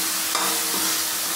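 Chopped tomatoes stirred and sizzling in a hot pan while cooking dal fry, a steady loud frying hiss with faint scraping strokes of the spoon, close and continuous with no talk.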